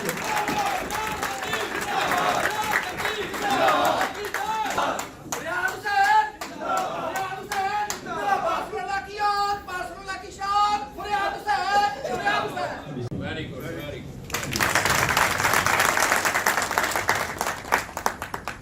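Standing applause at a PTI Spain political function in honor of guests, with clapping and crowd noise mixed with talking and voices, and a louder surge of applause near the end.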